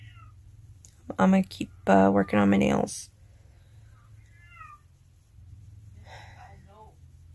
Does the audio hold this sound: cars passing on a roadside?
no